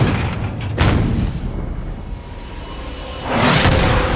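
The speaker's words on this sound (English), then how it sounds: "The shells slam directly into the forecastle in a brutal strike." A WWII US destroyer's 4-inch main guns firing shells at the U-boat U-405: heavy booming blasts with whooshing rushes, one early and another swelling near the end, over a continuous rumbling battle din, no voices.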